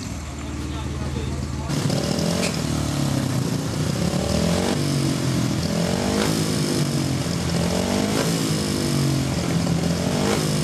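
Speedway motorcycle engine revving loudly in the pits during clutch adjustment before a 2005 race, a sustained rising and falling buzz with repeated throttle blips, voices talking underneath.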